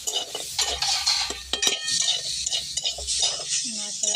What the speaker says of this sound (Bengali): তাই আবার নাড়াচাড়া করে নিচ্ছি।